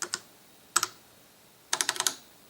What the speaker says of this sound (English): So all you have to do is type load, and then when you're ready, you press enter